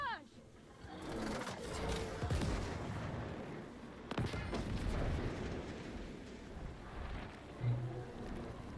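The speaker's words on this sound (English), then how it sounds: "Here comes the barrage." An artillery barrage in the strategy game Gears Tactics rumbles as a rolling series of heavy booms and crackling impacts, with a sharp blast partway through, under ongoing talk.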